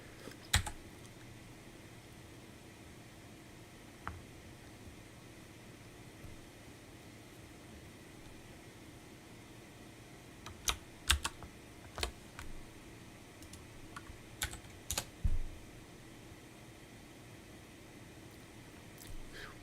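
Computer keyboard typing during game backend coding, sparse clicks and short bursts of keystrokes scattered over a quiet room hum, busiest in the second half.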